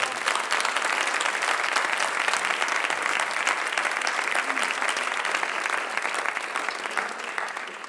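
A crowd at a Moros i Cristians festival event in Riba-roja de Túria applauds, a dense, continuous wash of clapping that holds steady and then tapers slightly at the end.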